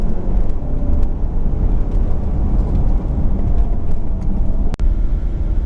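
Engine of a Land Rover Discovery Sport accelerating, a continuous loud, low drone that holds steady throughout with a brief dip near the end, heard close and without talk.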